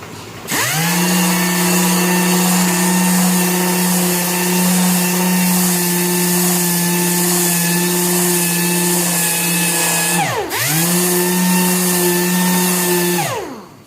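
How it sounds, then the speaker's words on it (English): Electric sander working a plastic car bumper repair, a loud, steady whine close by that winds down briefly and spins back up near the end, with no talking. "Now when I start hitting it with my sander, I'm going to see the highs and lows of it."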